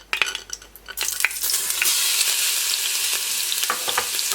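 Onions frying in oil in a cooking pot are stirred with a wooden spoon: a bright, loud sizzle swells after a second and keeps crackling, with soft scraping knocks of the spoon.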